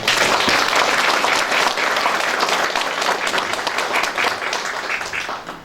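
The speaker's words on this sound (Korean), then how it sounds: "큰 박수 한번 보내주십시오" A crowd of residents at a county community event claps loudly and steadily, a thick wall of applause that tapers off at the end.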